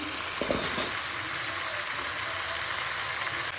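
Papaya, carrots, beans and potato fry on high heat in a pan, a steady loud sizzle with a few brief stirring scrapes near the start.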